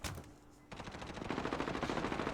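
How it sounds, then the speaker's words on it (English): Rapid, continuous bursts of automatic gunfire in a competitive video game match, loud and steady, rattling on without pause after a brief quieter moment. "There's lots of gunfire going on, though."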